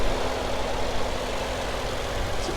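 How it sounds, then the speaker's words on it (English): Twin-turbo 4.0-liter V8 of a 2019 Mercedes-Benz E63s AMG wagon idling, a steady low rumble heard close by without speech. "We have a twin turbo V8."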